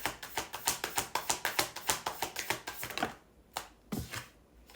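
Tarot cards are shuffled close by in a quick run of crisp riffling taps, about a dozen evenly spaced, which then slow to a few separate soft slaps and stop.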